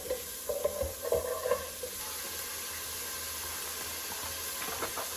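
Mushrooms sautéing in a pan: a quiet, even sizzle with a cluster of light scraping and stirring clicks early on, then a soft continuous hiss.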